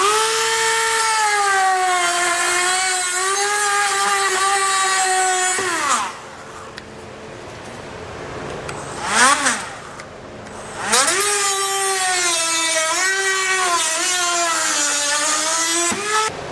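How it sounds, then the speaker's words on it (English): Dremel rotary tool cutting underbody parts on a 2015 Toyota Highlander during a trailer hitch install: a loud, steady high-pitched whine with harmonics, dropping out briefly mid-cut with a couple of short bursts before resuming. "So again, I'm just going to use a Dremel tool"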